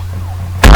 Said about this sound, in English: who turned on my anti-spoiler siren here?